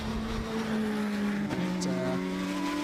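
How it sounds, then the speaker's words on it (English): Touring race cars at Donington Park during a TCR UK race weekend, with a loud, steady engine whine that shifts pitch midway as a gear changes, continuous and close. "Genvy's car is quick in a straight line, but not massively quicker than the Radical."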